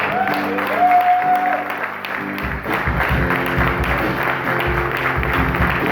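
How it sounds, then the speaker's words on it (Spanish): A church congregation breaks into applause during a Spanish-language service, broad crowd clapping that continues steadily with a sustained musical tone from keyboard or organ underneath. "¿Cuántos le dan un aplauso?"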